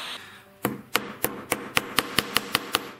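A metal jewelry pendant is tapped with a small hammer on a bench: about ten crisp, ringing taps fall in a steady, quickening rhythm, close by and with no talking.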